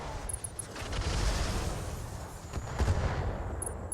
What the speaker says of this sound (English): some LRM ammo explosion